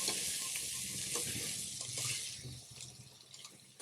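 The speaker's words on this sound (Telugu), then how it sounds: "ఇందులోకి ఫ్రెష్గా దంచిన 1 టేబుల్ స్పూన్ అల్లం వెల్లుల్లి పేస్ట్ని తీసుకొని మరొక 2 నిమిషాలు ఫ్రై చేయండి" Freshly pounded ginger garlic paste frying in oil for country chicken curry, a soft steady hiss of sizzling with faint low stirring thumps, easing slightly toward the end.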